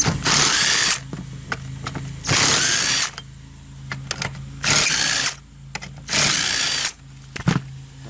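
An impact wrench removes gold seat bolts in a Toyota Sequoia, firing in four loud bursts of rapid rattling hammering, each about a second long, with quieter clicks and handling noises between them.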